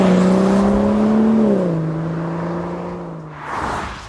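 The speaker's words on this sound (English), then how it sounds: "It's that really nice, smooth, 6-cylinder BMW noise that, well, I've certainly come to love over the years." A 2017 BMW M240i's smooth six-cylinder engine hums loud and close in a steady, harmonic drone that eases slightly in pitch before fading, with no talking.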